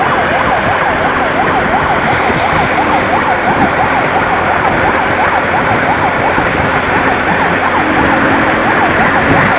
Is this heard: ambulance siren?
yes